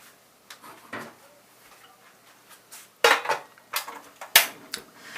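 A metal pot handled in a kitchen as water is set to boil: scattered clanks and knocks, a few sharp bright clangs of the pot set down, with quiet rustling between.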